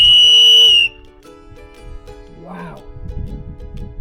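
Mountain Equipment Co-op whistle blown outdoors during e-bikepacking across Mexico, a single piercing steady blast of about a second, followed by a brief voice and faint background noise.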